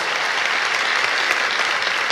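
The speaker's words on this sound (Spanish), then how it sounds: "Ellos son merecedores de nuestro reconocimiento, de nuestro aplauso." A church congregation claps together in steady, dense applause that fills the room evenly, loud and unbroken from start to finish.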